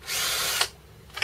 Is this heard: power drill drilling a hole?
yes